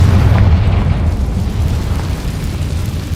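A loud, sustained, rumbling blast from a Confringo fire spell cast in Hogwarts Legacy on PS5, filling the whole stretch as a dense roar with no voices over it.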